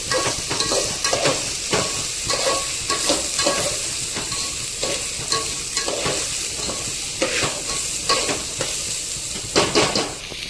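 Uncooked rice being stirred into a hot pan of oil with crackled cloves and black pepper for prawn biryani, giving a steady sizzle broken by repeated scraping strokes of a spoon against the pan, close and fairly loud with no talk.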